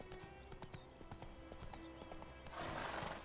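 Hoofbeats of the horse Roach clip-clopping steadily in The Witcher 3, faint and even, ending in a louder rush of rustling noise.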